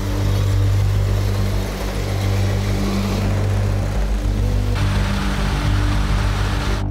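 A car engine drones loudly and steadily as the vehicle drives onto a deployed PMM-2M self-propelled military ferry, a dense low rumble mixed with broad noise and slight shifts in pitch, with no talking.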